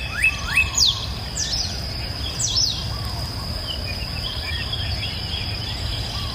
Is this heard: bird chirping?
yes